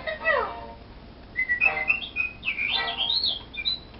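Person whistling a Snow White tune, a wavering melodic phrase close to the microphone, loud and clear with brief pauses, with no talk.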